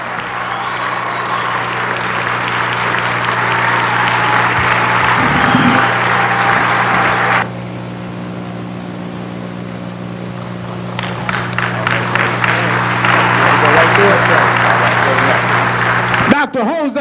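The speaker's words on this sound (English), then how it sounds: "One more time, a warm round of applause for Dr. Jose V. Pimienta-Bey." Audience applause at a lecture on the history of the Moors in Spain: dense clapping that drops off briefly, then returns as scattered and then fuller clapping, with a steady hum beneath.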